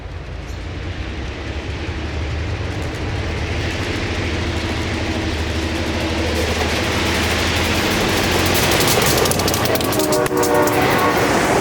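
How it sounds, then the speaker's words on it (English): WNY&P freight train on the Farmers Valley turn out of Olean passing close by: a deep diesel rumble and clattering cars that swell louder, with horn blasts sounding late in the pass. "This train runs south out of Olean to the small community of Farmers Valley"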